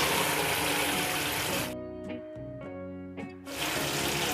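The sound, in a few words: water pouring into a pot for fish pochero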